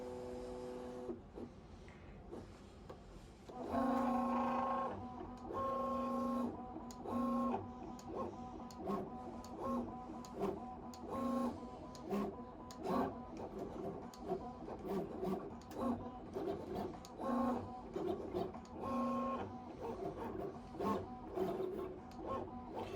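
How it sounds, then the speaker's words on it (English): A Loklik iCraft cutting machine at work, a quiet, steady motorized hum with rhythmic whirring and clicking as the carriage moves back and forth, close and unaccompanied by talk. "we're going to go ahead and let it cut and see what it does"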